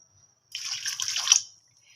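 Milk poured into a pot of carrots for gajar ka halwa, a brief close splashing, trickling pour of about a second in an otherwise quiet kitchen.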